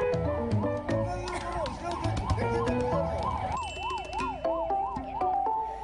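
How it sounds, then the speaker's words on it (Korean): A wailing 119 ambulance siren rises and falls repeatedly, close and loud, over a busy mix of traffic noise and other horns, the ambulance stuck in roundabout congestion. "119 구급차가 지나갈 수 없는 긴박한 상황이 고스란히 담겨 있었는데요"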